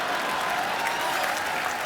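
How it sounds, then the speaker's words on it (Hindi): Studio audience on a comedy show clapping, a dense steady wash of applause from a large crowd, loud and continuous without pause. "जोरदार तालियां।"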